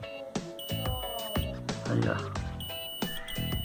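Multimeter in continuity mode testing the charging connector of a small Inova portable speaker, sharp high electronic beeps starting and stopping several times, close and clear, with someone talking between and over them.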